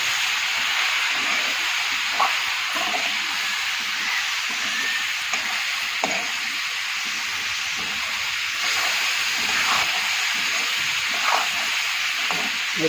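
Cut drumstick pods (moringa) tipped into a hot pan for a Gujarati drumstick curry with onion and tomato, giving a steady close sizzling hiss throughout with a few faint clicks and knocks, no talk.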